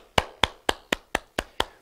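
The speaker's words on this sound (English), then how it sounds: "Please, let's give each other a round of applause." Seven evenly spaced, sharp claps at a steady brisk rhythm, close and fairly loud, each dry and percussive like single hands striking, with no crowd behind them.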